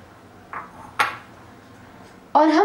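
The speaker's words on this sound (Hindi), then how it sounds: "हम प्याज को डालेंगे" Two medium onions sliced lengthwise drop into a microwave-safe bowl, with a couple of light clinks near 0.5 and 1 seconds, then a louder ringing clatter of bowl or dishware near the end.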